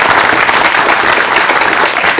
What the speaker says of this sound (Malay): Tepukan kepada Prof.